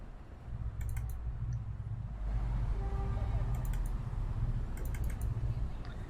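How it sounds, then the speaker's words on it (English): Computer mouse clicks during the police game Keep the Peace, arriving in quick clustered bursts of double and triple clicks over a steady low background hum, close and crisp. "Helps if I triple click instead of just double clicking"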